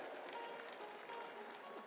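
An audience claps together at a Hindu yajna (fire ritual) gathering, a faint, steady patter of many hands that holds evenly throughout.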